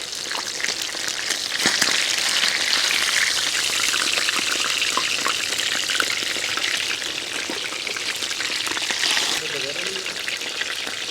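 Fish sizzles steadily on a griddle in mustard oil, a dense crackling hiss that holds throughout with a faint voice underneath.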